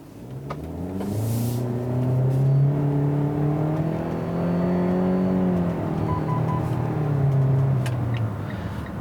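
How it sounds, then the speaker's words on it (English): A 2019 Mitsubishi Eclipse Cross turbocharged engine pulls steadily from inside the cabin, its droning pitch rising and falling through gear changes over a smooth road hum. "Let's get out on the road and see how this Eclipse Cross drives."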